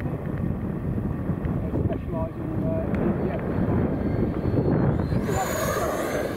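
Radio-controlled Fouga Magister jet from an RBC kit, powered by a Schuebeler 90mm electric ducted fan, whines past at a distance under steady wind noise, with a rising high-pitched whoosh toward the end.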